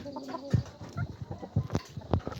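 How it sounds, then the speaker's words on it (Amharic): Chickens cluck near the spot where they roost for the night, a scattered series of short, close clucks and soft throaty calls without any talking. "እንደምታያቸው ዶሮቹ እዚህ ነው የሚያድሩት"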